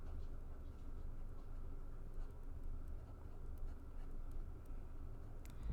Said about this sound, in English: I'll start by simply writing the functions.